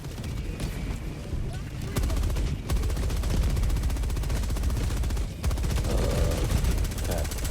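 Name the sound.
gunfire in video game Helldivers 2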